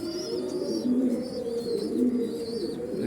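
Fancy, racer and high-flyer pigeons coo close by in soft, repeated throaty phrases, overlapping one another over a low background hum, with no talking.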